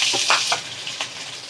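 Mustard seeds and curry leaves crackle in hot oil for a Kerala-style red spinach and jackfruit seed stir-fry. A brief, close sizzle carries a few sharp pops.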